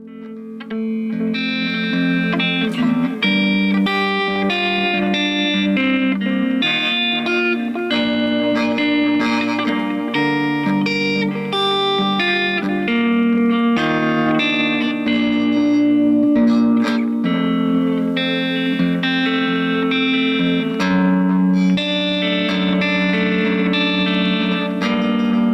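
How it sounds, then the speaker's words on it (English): Electric guitar played through a Boss Katana Mini practice amp on its clean channel with the delay effect turned fully up, a continuous sustained stream of chords and notes smeared into long repeating echoes, loud and steady throughout with no talking. "So this is with the delay fully maxed."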